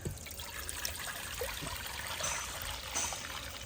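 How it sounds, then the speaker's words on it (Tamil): Hot water trickles and pours steadily into a large clay pot, a continuous splashing flow with faint clinks, close by and alone. "சுடுதண்ணியை சேர்த்துக்க போகிறோம்."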